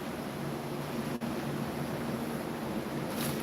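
Hot wind blows steadily outdoors, a constant broad rushing roar with buffeting against the microphone, continuous and fairly loud throughout with no talking.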